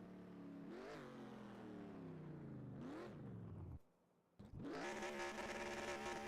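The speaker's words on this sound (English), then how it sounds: "Doing its burnouts now" Race car in NASCAR Racing 2003 doing burnouts at Atlanta, engine revving loudly in rising and falling sweeps, dropping to near silence briefly before roaring back at full throttle with a dense, raspy tone.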